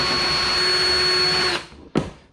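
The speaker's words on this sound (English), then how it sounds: "letting the drill bit just remove just like a little bit more plastic" Power drill bit grinding plastic away on a Vibe Shearwater 125 kayak rudder foot control, a steady loud whir for about a second and a half, then it stops, followed by one short sharp knock.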